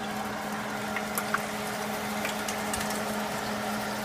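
Potato chips bubble and sizzle in hot frying oil, a continuous dense crackle with a steady low hum underneath and a few sharper pops, no talking.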